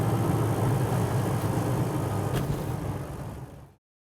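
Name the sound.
Nova car driving behind, engine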